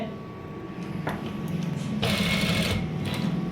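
A domestic sewing machine runs a V-shaped line of stitches on a button-placket area of a garment, a steady motorized whirr that rises in loudness partway through, with faint talk in the background.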